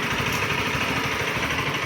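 A steady Rusi RS200fi motorcycle engine rumble idles continuously at close range, with a broad noisy hiss on top and no change in pitch.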